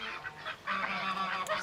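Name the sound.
drakes (male ducks) quacking quietly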